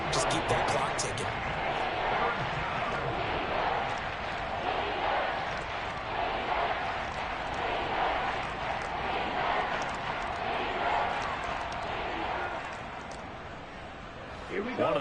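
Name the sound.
football stadium crowd cheering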